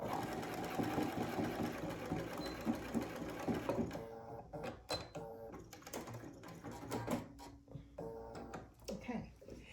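A sewing machine stitches a Dresden quilt block. A steady mechanical whir runs first, then gives way to shorter start-and-stop bursts of rapid stitching with pauses, close and fairly quiet.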